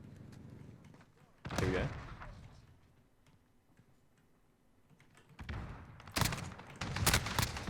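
Shotgun blasts in Call of Duty: Modern Warfare, a 725 shotgun build: a sharp loud shot near the start, then a cluster of several booming shots toward the end, with a brief spoken remark between.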